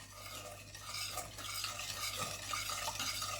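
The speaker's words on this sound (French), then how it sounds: "Le tout, c'est de commencer à remuer" A utensil stirs sugar and water in a pan on the stove at the start of a syrup for Italian meringue buttercream, giving a soft, continuous scraping swirl with a faint sizzle, close and steady with no talking.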